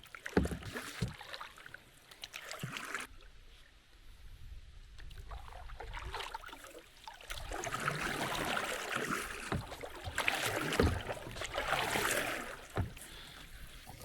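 Paddles dip and splash through water in uneven strokes, with swishing and dripping close by and a gentle wash of moving water around a heavily loaded canoe in the Wisconsin Northwoods.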